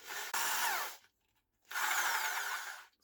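An electric drill whirs at high speed in two bursts, stopping briefly in between before spinning up again, testing a disassembled and refitted chuck.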